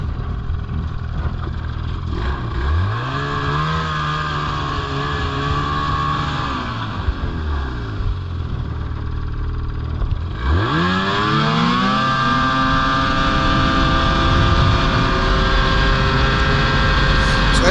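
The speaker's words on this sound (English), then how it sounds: "it sounds like Dave's motor's starting to lose power" A snowmobile engine drones close by, revving up and dropping back twice with sweeping pitch before settling into a sustained, strained whine as the motor loses power.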